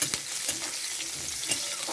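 Onion bulbs from spring-onion greens and chillies fry in oil in a karahi wok, giving a steady close sizzle with a few quick scraping stirs and no talk.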